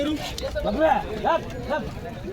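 Bulls at the large Mhasa Yatra cattle market fair in Murbad, 2025, with drawn-out lowing calls repeating over a busy crowd and close talking voices.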